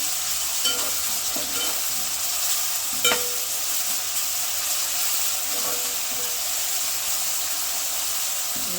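Fish eggs fry in a pan with ginger paste, giving a steady close sizzle with occasional faint stirring scrapes and one clearer knock. No one speaks.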